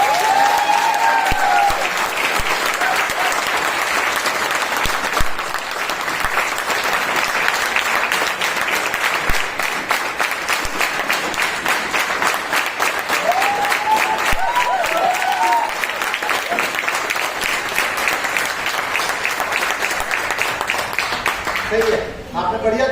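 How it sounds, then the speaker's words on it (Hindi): Sustained audience applause at a corporate event, dense steady clapping from a large crowd filling the room for over twenty seconds, with occasional brief voices and cheers rising through it. "सही है, आपने बढ़िया तालियां बजाई"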